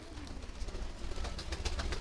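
Soft fancy pigeon cooing murmurs close by, low and repetitive, over a faint rustling background.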